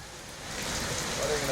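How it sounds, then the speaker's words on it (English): Rain falls steadily over the area after a long dry spell, a dense hissing wash of drops that stays even and fairly close throughout. "The rain has started in many areas of the country"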